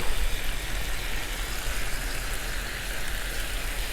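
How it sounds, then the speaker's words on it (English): Kababs and shrimp sizzle on a Blackstone griddle in a steady, close crackling hiss that carries on without pause. "it's starting to sizzle up"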